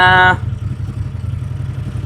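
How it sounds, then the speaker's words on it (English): A CF Moto Z Force 800 side-by-side, previously fire-damaged, idles with a steady low rumble throughout after a brief loud tonal sound at the start; no voices. "it's idling and it sounds a little bit better now"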